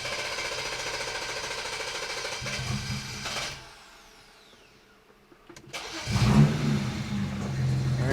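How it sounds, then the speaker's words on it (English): BMW 335i with a misfire cranks and catches, its engine running rough and loud before a brief lull, then firing again with a strong, uneven idle and revving close by. "Now we'll start the car up."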